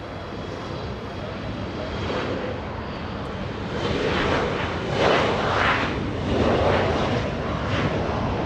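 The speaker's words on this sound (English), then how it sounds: "Southwest Airlines now, a 737." A Southwest Airlines Boeing 737 at Los Angeles International Airport, its engines giving a steady broadband roar that swells slightly midway and holds at moderate distance, with no voices.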